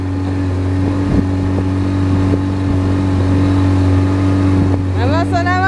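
Outboard motor of a small aluminium boat droning steadily up close, with wind buffeting the microphone throughout and a rising whine near the end.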